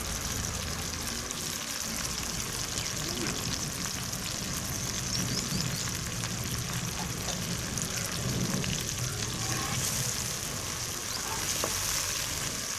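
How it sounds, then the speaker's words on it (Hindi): Green chilies fry in a pan for a vegetable pulao, a continuous, even sizzle and crackle that holds steady throughout with no talk. "और इन्हें अच्छे से फ्राई कर लेंगे।"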